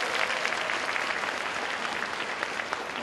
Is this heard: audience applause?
yes